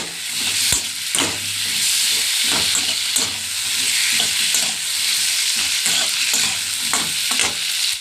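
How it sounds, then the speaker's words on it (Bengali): Spices and ginger paste sizzle and crackle in a hot pan while a utensil scrapes and stirs in uneven strokes, loud and close, with no talking. "এবার আমি এর মধ্যে আদা বাটাটা দেবো একটু নেড়ে নিই"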